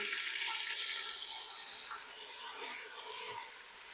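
Water poured into a pan of cardamom, cloves and black pepper frying in oil for matar chicken pulao sets off a steady, close sizzling hiss that swells and eases throughout.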